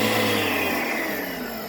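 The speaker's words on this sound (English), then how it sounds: "Simply just turn on the water to the pressure washer." A pressure washer starts up beside a garden hose for cleaning white mesh shoes, giving a steady, loud mechanical hum and hiss that holds for the whole short stretch with no talk.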